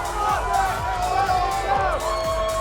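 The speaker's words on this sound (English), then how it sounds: "the MIBR fans in the crowd are going crazy right now" Esports crowd cheering for MIBR during a VCT Americas Valorant match against G2, loud roaring arena noise throughout under a commentator's voice and game sounds.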